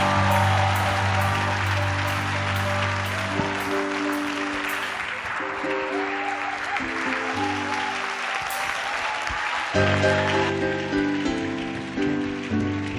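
A church congregation applauds and cheers to welcome pastor Marc Zongo, dense sustained clapping over loud instrumental music.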